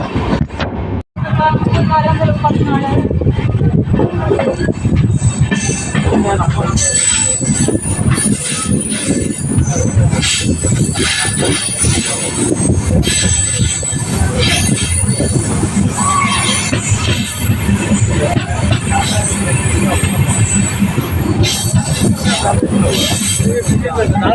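A passenger train bound for KSR Bengaluru rolls along with a loud, continuous rumble and sustained wheel squeal that runs the whole time, with voices faintly under the din.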